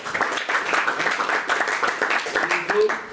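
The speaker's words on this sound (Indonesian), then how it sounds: "Tepuk tangan dulu." A Persib football team gathering breaks into steady group applause, with voices mixed in throughout the clapping.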